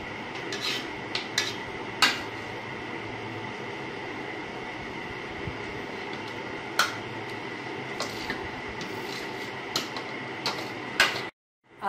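Boiled rice goes into a simmering yakhni and milk mixture in a pot, with a series of sharp metallic clinks and scrapes of a utensil against the pot over a steady background hum.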